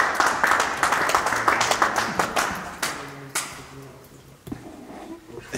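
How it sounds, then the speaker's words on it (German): Small group applauding behind the scenes of a music video shoot, loud rapid clapping that tapers off halfway, followed by quieter sounds and talk. "Applaus."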